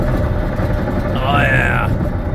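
A rough-running green tractor engine gets a burst of throttle, giving a steady, close, uneven rumble with a thin rising whine near the end, and voices heard throughout.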